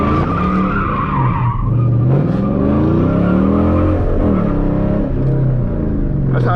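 A six-speed manual Dodge Challenger revs hard and loud, its rear tyres breaking traction and squealing in long sliding skids as the car swings through a tight turn, engine note rising and falling throughout.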